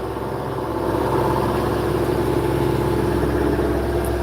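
A sailboat's engine runs steadily while motoring at sea, a loud, continuous low drone with an even mechanical rumble and no break throughout.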